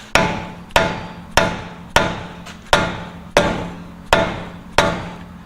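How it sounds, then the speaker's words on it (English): Eight heavy, dull blows from a dead blow hammer striking a seized front axle in a Toyota 4Runner hub land at a steady pace, each a solid thud with a short ringing decay, close by with no voices. "So you take a dead blow."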